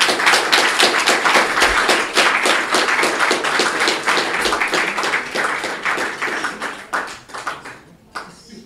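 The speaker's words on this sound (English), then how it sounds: "We'll have a big round of applause and then a few questions." Lecture audience gives a big round of applause, many hands clapping in a thick, crisp rush that holds steady, then thins and fades away in the final second.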